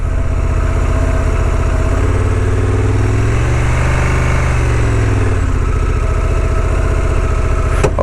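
Honda Transalp 750 motorcycle engine running during off-road riding while the bike is stuck, a loud steady close idle that rises briefly as the throttle is twisted, then settles back down.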